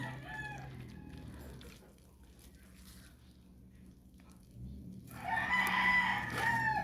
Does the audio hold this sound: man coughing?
no